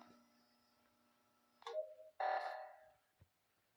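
A game alarm sounds in the Among Us video game: a steady tonal drone, then two loud, bright bursts of alarm tone close up, ending in a brief click.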